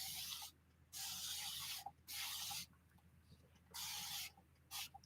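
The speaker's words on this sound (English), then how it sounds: "I'm spraying a little extra because you know how that sucks it up." Spray bottle misting water onto watercolor paper in a studio, four or five short hissing bursts separated by brief pauses, close and fairly quiet.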